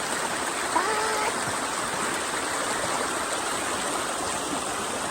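Water rushes and flows steadily, a dense, continuous babbling roar with no breaks.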